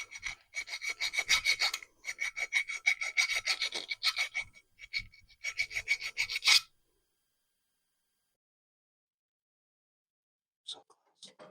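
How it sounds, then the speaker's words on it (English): Rasping metal file strokes on a metal casting from an engine cooling system, in quick repeated bursts, close up, pausing briefly, then stopping; a couple of short scrapes return near the end after silence. "Oh, yeah, you gotta file it."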